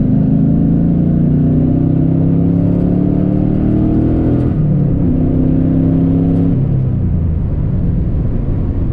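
A car with a newly installed Terminator X fuel injection system pulls hard in third gear, its engine note rising steadily, then easing briefly and climbing again, loud and close with a droning rumble and no talk.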